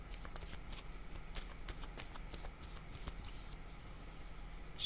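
Tarot cards are shuffled for a reading, making rapid, soft riffling flicks in quick bursts that run steadily and quietly throughout.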